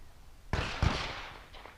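A single gunshot cracks out at an outdoor shooting practice, a sharp close report with a brief echoing tail and a second thump just after.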